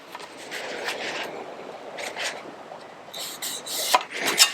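Hand file rasping a new boot floor bracket for a 1969 Triumph GT6 Mk2, a series of short rough strokes in uneven rhythm, close and moderately quiet, with a few brighter metallic scrapes near the end.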